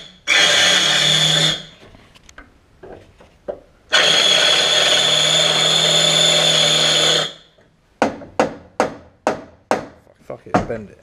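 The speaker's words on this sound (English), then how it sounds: "he's just trying to drill this out of the boot now" A power drill works at a stuck bolt on a car, running in two sustained bursts of a few seconds each. Between the bursts come short knocks, and a series of sharp clanks follows. A voice is faintly audible in places.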